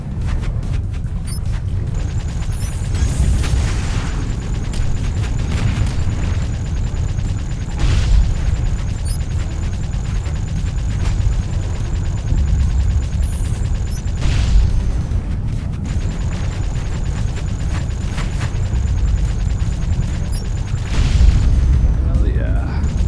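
Missile explosions in the Spacebourne space game, heard as repeated deep booms and bursts over a dense, continuous rumble of battle noise, loud and close, with someone talking over parts of it.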